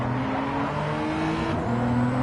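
Race car engines in Gran Turismo 7 at the Brazil circuit drone steadily with layered tonal whines shifting pitch as several cars run close together, loud and continuous with no talk.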